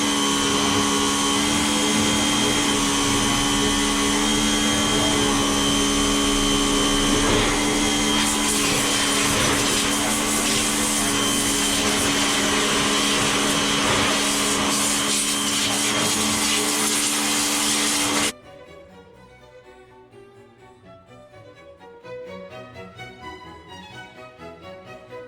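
Motor of a pressure washer used to clean a motorcycle runs as a loud, steady, droning whine with a strong tonal hum, close to the microphone. It cuts off abruptly, leaving quieter background sounds.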